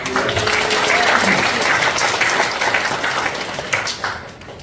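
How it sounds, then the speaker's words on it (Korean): A church congregation at an evangelism seminar gives a loud, dense round of applause as praise to God, steady and continuous before gradually thinning toward the end. "주님께 영광 박수를 드리겠습니다."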